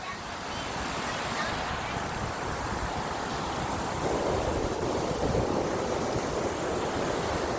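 Gulf beach surf and gusting wind about 34 hours before Hurricane Sally makes landfall, a constant roaring wash of breaking waves mixed with microphone wind buffeting, steady and loud, growing slightly rougher midway.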